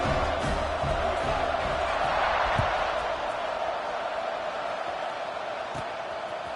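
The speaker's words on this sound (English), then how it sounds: "this crowd is feeling themselves after that last drive" A stadium crowd in the College Football 26 video game roars steadily and loudly, a dense wash of cheering with a few scattered thumps and no clear talk.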